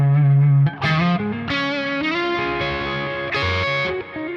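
An electric guitar with old strings plays through a dual Kraken amp sim, an IR loader and EQ, then delay and reverb. Thick distorted chords ring out loud and alone, changing several times with a long, washy tail.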